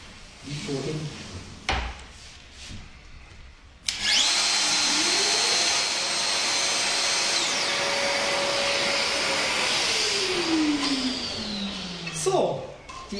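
A Festool VS600 jointing system cuts wood with dust extraction running, a loud sustained whine and roar with the tone rising then falling as the cut is made, preceded by clunks of clamping.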